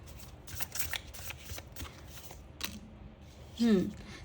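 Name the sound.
shuffling tarot cards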